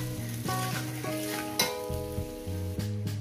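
Potatoes and onions frying in a pan for a gurjali fish curry, a close sizzle with repeated stirring scrapes and a low tonal hum running underneath, no voices.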